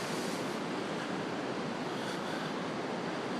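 Steady, dense roar of ocean surf breaking along a beach, loud and continuous with no pauses, with some wind noise over it and no speech.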